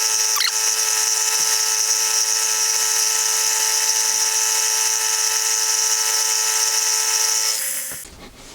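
A milling cutter on a vertical-head mill cuts the forward face of a curved T-nut mounted on a rotary table, producing a steady, loud high-pitched whine that holds for about seven seconds before winding down.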